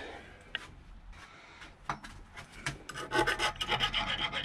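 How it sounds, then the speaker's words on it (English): Metal being deburred on custom handlebar switchgear for a Triumph T140 chopper, with sparse scraping strokes at first that build into dense, rapid, close rasping filing near the end. "Just have to deburr everything now."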